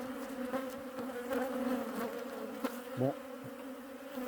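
Steady, dense buzzing of many honeybees at a hive during a winter inspection, a low continuous drone with a short spoken word near the end.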